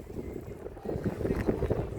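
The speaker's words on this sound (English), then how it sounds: "Got a boat just pulling in" A catamaran boat with an outboard motor pulls in toward an island dock, its steady low motor rumble and water wash rising slightly partway through, with wind buffeting the microphone.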